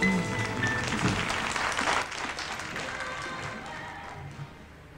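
Audience clapping at a Soul Train performance, a dense, steady patter of many hands throughout, moderately loud with a faint hint of voices mixed in.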